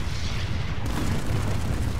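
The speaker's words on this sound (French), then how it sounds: "là le mec a lancé une roquette, évidemment la roquette s'est fait stopper par le bouclier" Low, rumbling blast from a rocket stopped by a shield in the video game PlanetSide 2, a heavy booming roar that fills the whole short stretch with no voices.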